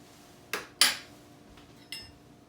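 Cutlery and a plate clatter as steak au poivre is served, with two sharp clinks close together and a lighter tap a moment later, nearby with no talk.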